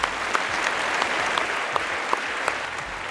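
Audience applause at a Tamil talk on life and achievement, a steady dense clapping from a crowd lasting the whole short stretch, with a few sharper individual claps standing out.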